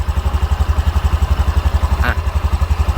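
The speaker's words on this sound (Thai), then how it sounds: "นี่เสียงเครื่องเพาะๆนะครับ เดินเบานิ่งๆนุ่มๆแบบนี้เลยนะครับ" Up close, a small 2020 Honda Scoopy i scooter engine idles smoothly with an even, rapid low putter, steady throughout, with a short faint squeak near the end.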